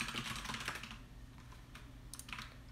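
Fast typing on a computer keyboard, a dense burst of quick clicking keystrokes up close that thins out into scattered taps, with no talking.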